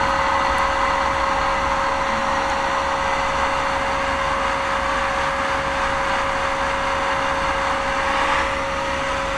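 Cessna 172 engine in FSX, a steady droning propeller-engine roar at full throttle, continuous and even in level for the whole stretch with no talk over it.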